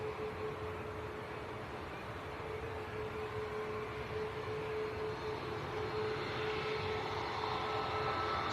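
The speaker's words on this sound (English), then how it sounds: "There's a Ryanair coming out, going before this one." A Ryanair jet taking off at Manchester Airport gives a steady, loud, broadband engine roar with a constant tonal whine, building slightly toward the end and heard alone without talk.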